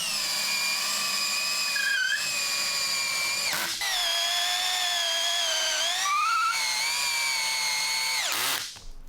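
A power driver sinks long timber lock screws through a tenon on a wooden garden bench, a loud, sustained high whine with pitch dips as it bogs under load, pausing briefly between runs and stopping abruptly at the end.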